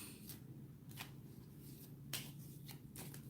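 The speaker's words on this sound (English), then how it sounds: "I'm just gonna shuffle these cards." A deck of tarot cards is shuffled by hand, giving several quick, crisp riffling bursts spaced apart over a soft background, fairly quiet and close.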